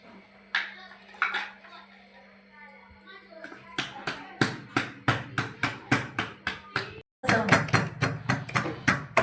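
Thapeev vada dough is patted by hand with wet palms on a plate, a fast run of sharp, evenly spaced slaps, close and loud after a short stretch of quieter clatter.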